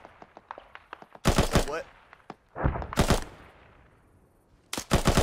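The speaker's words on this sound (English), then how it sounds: "are you able to decipher who's shooting?" Gunfire in the military shooter Arma III: a rapid series of sharp single shots, then several loud bursts of automatic fire, one louder volley near the end, with a voice speaking between the bursts.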